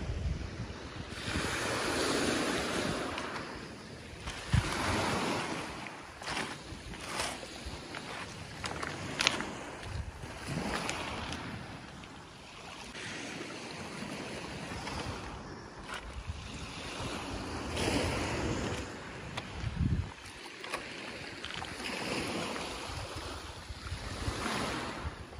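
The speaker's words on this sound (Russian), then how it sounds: "Ой, какое море сегодня спокойное, смотрите." Calm sea waves roll and wash gently ashore in slow repeating swells, with gusts of wind buffeting the microphone and no voices present.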